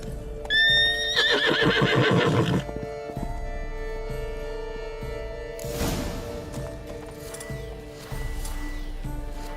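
A horse in the video game The Witcher 3: Wild Hunt lets out a loud, shrill neigh near the start, followed by shuffling hoof clops and snorts at close range, with no speech.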